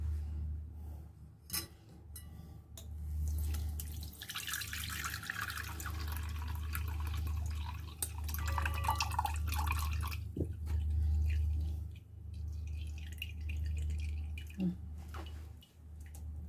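Blended pandan mixture is strained for nogosari cake, and its liquid drips and trickles steadily through a strainer into a bowl for a long, close, continuous stretch, with a few clinks.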